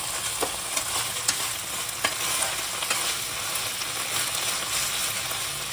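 Mint and coriander leaves fry in masala for a Bangalore-style donne biryani, a steady soft sizzle running throughout with occasional stirring scrapes, fairly quiet and close, without talk.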